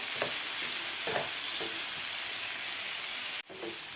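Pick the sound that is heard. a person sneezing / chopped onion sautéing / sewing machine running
chopped onion sautéing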